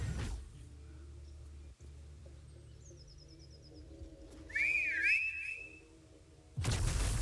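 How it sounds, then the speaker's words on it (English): A whistle calling the companion Misha in Baldur's Gate 3 sounds as a quick rising-falling melodic tweet, faint at first and then a clearer warbling call, over a low steady ambient hum. "I love how that's just a whistle"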